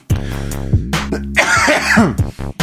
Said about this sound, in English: going to leave these coughs in.